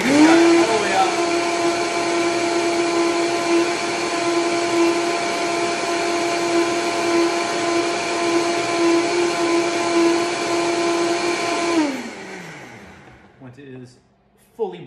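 A blender runs at high speed blending a Brazil nut chai latte, giving a loud steady motor whine for about twelve seconds before spinning down, followed by brief clatter.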